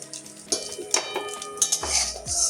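A boiled-egg omelette lifted from a pan with a metal utensil, giving a few clear clinks and scrapes of metal on the pan in quick succession, close and moderately loud.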